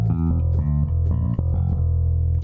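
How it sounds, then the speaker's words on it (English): A bass line replaying an organ melody in a metal-style arrangement, with steady sustained notes shifting in pitch over a continuous low drone, moderately loud and without talk. "now I'm gonna take that melody of the organ and I'm gonna do it on the bass"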